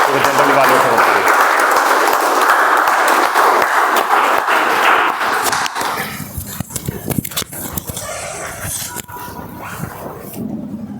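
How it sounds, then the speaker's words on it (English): A meeting audience applauds loudly for several seconds, then the clapping thins out into scattered claps and murmuring voices. "Can we have a round of applause to the general evaluator of today?"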